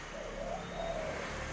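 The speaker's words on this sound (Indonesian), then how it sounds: "Yang ini puter white ivory ya, puter putih kalung hitam" A white ivory collared dove coos softly in a couple of low, gentle phrases, with a steady background hum and no voices.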